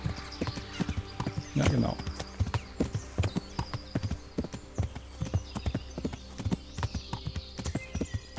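Horse hooves clip-clop in a steady, brisk rhythm as a horse is ridden through the medieval game Kingdom Come Deliverance, with someone talking briefly over the hoofbeats.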